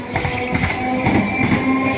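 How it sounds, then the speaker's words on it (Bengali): A down train pulls away from a station platform at night, its steady rumble and clattering carriage noise rolling on continuously at moderate loudness with no voices. "আমি এসে উঠতেই ডাউন ট্রেনটা বেরিয়ে যাচ্ছে"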